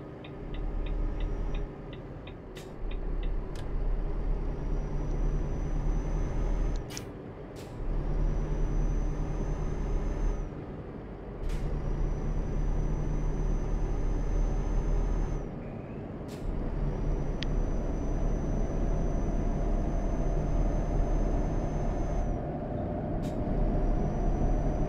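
A truck in Euro Truck Simulator 2 slows with its air brakes, releasing several sharp hissing bursts over a constant loud engine drone, with a quick ticking indicator early on.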